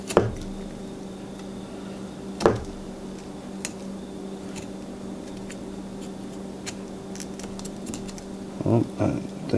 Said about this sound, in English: I think I hear some connective tissue right there.